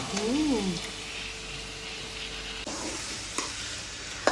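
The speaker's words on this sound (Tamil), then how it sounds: "அப்பயே சிக்கனை போட்டு இந்த பரட்டு பரட்டி இந்த மசாலா எல்லாம் அதுக்குள்ள ஏறணும்" Chicken tossed with masala in a pot for a Tirunelveli-style chicken kulambu, giving a steady close sizzle with scraping stirs, a brief voice-like wavering tone near the start and a few sharp clinks later.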